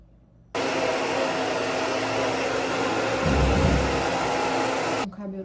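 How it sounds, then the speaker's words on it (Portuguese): A handheld hair dryer roars steadily for about four and a half seconds while drying long hair, switching on abruptly and cutting off near the end, with a slight swell in low rumble partway through as the airflow shifts. "eu terminei de secar com o secador"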